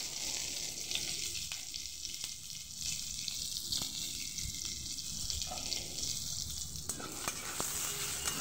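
Bata fish pieces seasoned with turmeric and salt fry steadily in hot oil, giving a continuous loud sizzle with scraping stirring strokes through it.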